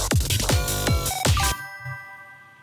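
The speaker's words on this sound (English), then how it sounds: "Did you hear that ring, by the way?" Bell-like ringing tones within an electronic music track, a run of bright repeated chimes over a pulsing beat, fading into a lingering ring.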